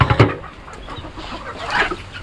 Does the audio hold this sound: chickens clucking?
yes